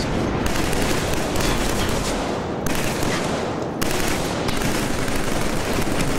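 Dense, continuous automatic gunfire from the video game Killzone 3 roars without pause, loud and close, with a few abrupt cuts in the barrage.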